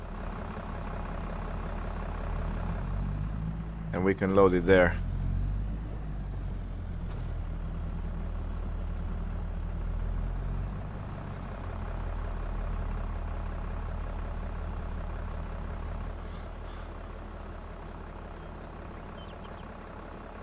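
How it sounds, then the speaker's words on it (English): A farm tractor's engine drones steadily as it drives into a maize field, a low, constant rumble with a brief louder burst near the start and a few spoken words over it. "put the tractor straight into the field"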